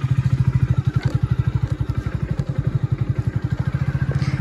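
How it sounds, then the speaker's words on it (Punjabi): Automatic-gear motorcycle idling nearby, a loud steady rapid thumping engine beat with even pulses throughout and no voices. "ਆਟੋਮੈਟਿਕ ਕਰਾਏ ਨੇ ਮੋਟਰਸਾਈਕਲ, ਆਪ ਹੀ ਗੇਅਰ ਪੈਂਦੇ ਨੇ ਇਹਦੇ।"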